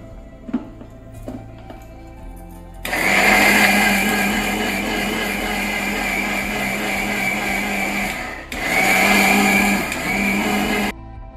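A mixer grinder whirs loudly as it grinds fresh coconut and half an onion with a little water, running in one long burst, stopping briefly, then starting again, after a few soft knocks at the start.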